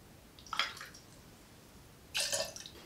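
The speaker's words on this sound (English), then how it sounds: "so just a dash of cranberry juice" A small dash of cranberry juice pours into a gin cocktail in two brief splashes about a second and a half apart, close and fairly soft, with no talking.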